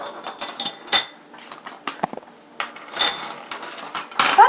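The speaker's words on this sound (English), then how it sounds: "about 20 grinds of fresh cracked black pepper" A pepper mill cracks fresh black pepper for barbecue seasoning, delivering a series of close, crunchy grinding twists in uneven bursts with short pauses between them and no talking.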